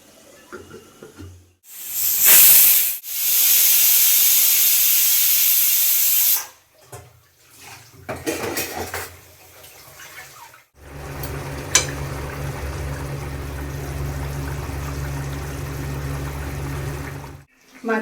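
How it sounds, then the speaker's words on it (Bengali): Fish curry beginning to boil in a pot, heard as a hissing, bubbling wash that rises and falls in bursts, then gives way to a steadier low simmering rumble for the last several seconds. "এদিকে মাছের ঝোলটা ফুটতে আরম্ভ করেছে"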